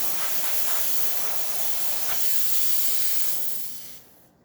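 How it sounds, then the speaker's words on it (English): Steam hissing steadily from the wand of a Zacconi espresso machine fitted with a new boiler after a full service, a loud, continuous close-up jet that holds for about four seconds before cutting off abruptly. "as you can now see, excellent steam coming out from the machine"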